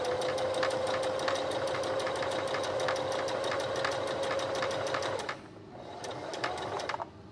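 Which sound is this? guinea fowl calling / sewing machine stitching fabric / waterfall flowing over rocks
sewing machine stitching fabric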